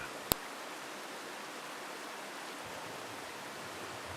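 Water from Boğazkaya waterfall flowing steadily in Yaka Canyon near Isparta, a faint, even broadband rush with a single sharp click near the start and no voices.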